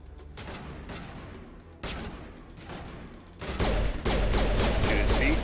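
Gunfire in the Mass Effect video game: bursts of rapid shots that build into a denser, louder barrage toward the end, with no talking.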